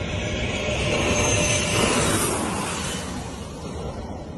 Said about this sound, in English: This jet spraying dirt.